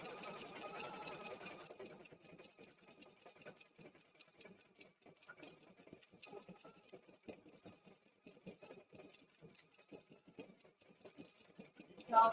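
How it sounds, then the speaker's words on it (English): An embroidery machine stitches dense foundation and decorative thread patterns, giving a steady, fairly faint rapid ticking and pattering that runs throughout with a brief louder burst at the end. "it's putting a lot more thread and a lot more stitches into it so that they will stay together"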